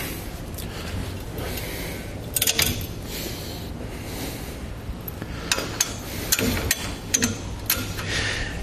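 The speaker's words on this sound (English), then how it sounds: "and lift up the arms that have the wheel cradles." Swagman XC2 hitch bike rack for two bikes, its wheel-cradle arms lifted into storage position after pins are pulled: scattered metallic clanks and knocks against steady outdoor background noise, with no talking.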